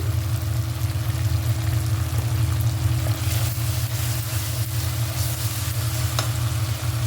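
A paste of ginger, garlic, mint and coriander with asafoetida fries in a pan for green chicken curry, giving a steady, close, continuous sizzle with faint crackles throughout.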